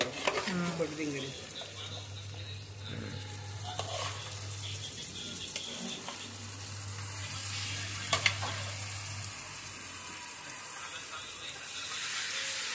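Chicken pieces for a curry frying in a pan, a steady broad sizzle running throughout with occasional stirring clinks, a low steady hum underneath, and people talking over it.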